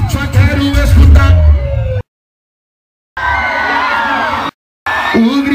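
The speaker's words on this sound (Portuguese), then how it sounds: "Só quero escutar o gritão das solteiras." A crowd of girls screams and cheers loudly at a baile funk party at an agricultural festival, in loud bursts broken by sudden silent gaps.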